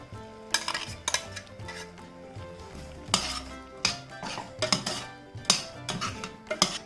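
Ground paste being stirred into cooked vegetables in a pan, repeated close scraping strokes and metallic clinks over a low sizzle, with no talk.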